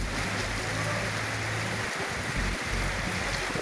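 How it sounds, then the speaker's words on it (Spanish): Torrential rain pours down in Ayacucho, a dense, steady roar of heavy rainfall filling the whole clip, loud and unbroken with low rumbles underneath. "Así sorprendió una inusual lluvia torrencial a miles de ciudadanos en Ayacucho."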